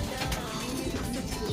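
Pigeons cooing in a rooftop loft in Tuguegarao, a steady low murmuring coo from several birds close by, continuous throughout with no talking.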